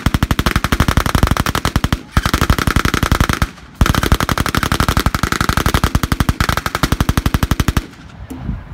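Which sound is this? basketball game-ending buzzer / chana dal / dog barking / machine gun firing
machine gun firing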